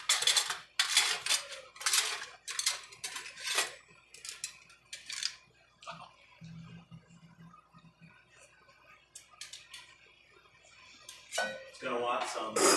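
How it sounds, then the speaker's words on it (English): Potatoes and salmon go into a pot at a rolling boil on a kitchen stove, bringing a busy run of close metallic clinks, knocks and spoon scrapes against the pan, with short pauses between. "We're going to add the potatoes, keep it on high. Give it a stir."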